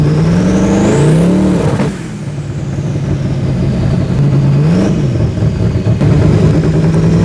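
Twin-turbo S10 truck engine revving hard in a garage, a loud continuous roar that climbs in pitch, dips, then rises again with whining turbo tones, close and dominant throughout.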